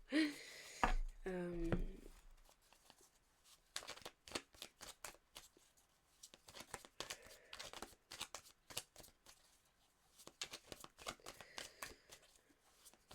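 Tarot cards are handled and drawn from a deck, giving a quick run of soft flicks and shuffles after a short stretch of talk, then a sparse, quiet series of close card snaps and slides.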